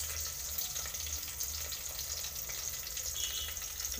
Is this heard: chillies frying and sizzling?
yes